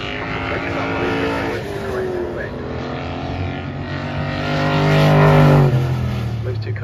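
Race car engines roar steadily with rising and falling pitch as cars pass at Brands Hatch GP circuit, growing louder near the end, with a voice talking over the engine noise.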